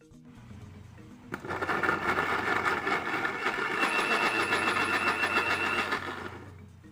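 An electric blender grinding chilies with a little water whirs into a loud, steady grinding roar after a quiet start, runs for several seconds, then winds down.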